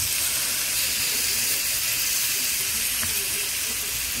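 Potato and tomato frying together in a pan for a fine bangamary fish curry, giving an even, unbroken hiss that stays loud and steady throughout.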